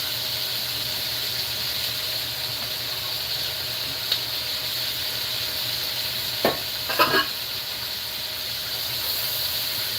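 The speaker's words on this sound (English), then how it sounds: "You hear that sizzle?" Onion, celery and peppers sizzle in a pan during home cooking, a steady close frying hiss that runs throughout, with a couple of brief clinks partway through.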